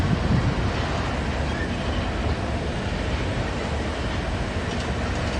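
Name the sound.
freight train with Ferromex locomotive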